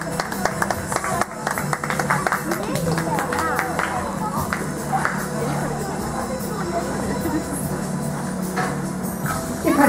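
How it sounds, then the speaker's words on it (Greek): An audience at a dolphinarium claps for Pela the dolphin, a moderate, steady patter of applause mixed with crowd babble, while a voice talks over it and splashy taps surface now and then. "ένα μεγάλο χειροκρότημα για την Πέλα"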